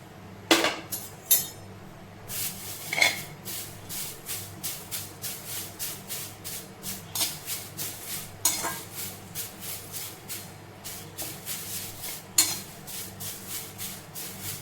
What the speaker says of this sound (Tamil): அடுப்பை ஸ்லோவில் வச்சுட்டு முருங்கைக்கீரை கருவாத அளவுக்கு நம்ம இதை வறுத்து எடுத்துக்கலாம்